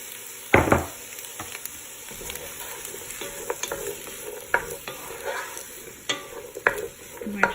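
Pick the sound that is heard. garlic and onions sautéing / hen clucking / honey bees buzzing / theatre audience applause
garlic and onions sautéing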